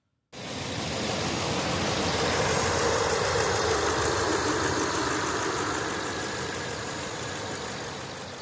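A car engine idling with a slight cylinder 7 misfire, a steady, fairly quiet low hum with a faint uneven roughness, starting abruptly and holding constant throughout with no talk.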